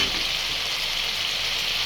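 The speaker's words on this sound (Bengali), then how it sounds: "মশলাটা কিন্তু ভাজা ভাজা হয়ে গেছে" Spice paste fries in a pan for a dish of taro stolons cooked with hilsa fish, giving a steady, close, even sizzling hiss that runs unbroken throughout with no voices.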